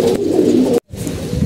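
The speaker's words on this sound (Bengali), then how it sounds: "কবুতরগুলা" Domestic pigeons cooing close by, a steady low throaty warble that runs on, breaks off briefly for a moment of near silence, then resumes, with no talking.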